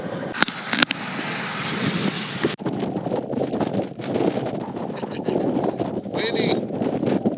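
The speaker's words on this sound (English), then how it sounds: "Windy." Wind buffets an outdoor microphone during a Colorado storm chase, a steady broadband roar with a few sharp gust knocks near the start.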